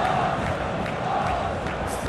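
A stadium crowd in a PES football game at the Champions League final between Arsenal and Barcelona, a steady loud roar of many voices with a commentator's voice faintly beneath.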